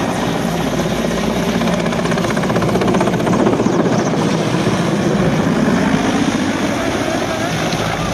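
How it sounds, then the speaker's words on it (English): A loud, steady helicopter rotor and engine roar fills the whole stretch as a helicopter crashes into the ground in Mexico City, with rumbling noise throughout and no distinct impact standing out. "This helicopter in Mexico City crashed into the ground."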